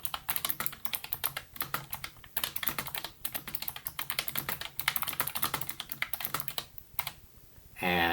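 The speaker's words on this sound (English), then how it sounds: "And this is the keyboard test." Typing on a computer keyboard in a quiet room during a webcam microphone test, a rapid, uneven run of close key clicks with brief pauses, ending in a short burst of louder noise.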